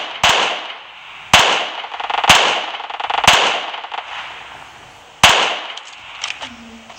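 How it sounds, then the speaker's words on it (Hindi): Gunfire in the video game PUBG training mode as a car is shot: five loud, sharp single shots at uneven intervals, each trailing off in a ringing decay, with no other sounds around them. "पहले इस कार को बस्ट करते हैं।"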